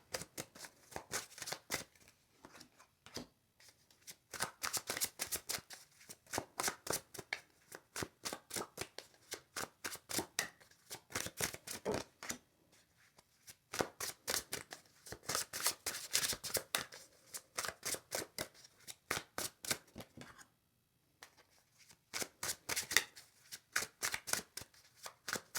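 Tarot cards shuffled and drawn by hand, a long run of quick crisp riffling bursts and soft flicks with brief pauses between, close and alone without talk.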